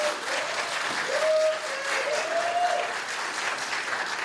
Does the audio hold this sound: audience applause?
yes